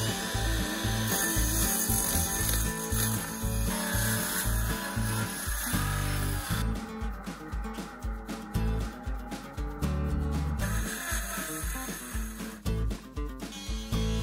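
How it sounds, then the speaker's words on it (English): Oscillating multi-tool cutting through wood siding around a window opening in an old wall: a loud buzzing, rasping cut that changes pitch as the blade bites and eases, close, with no voices. "And he finishes the cuts with a multi-tool."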